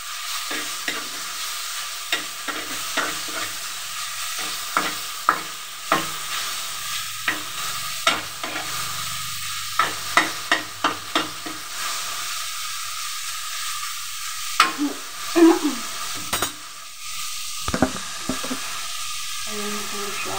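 Adobo fries in oil in a pan, a continuous sizzle with repeated clacks and scrapes of a spatula stirring and turning the meat, close and steady over twenty seconds, with faint steam hiss.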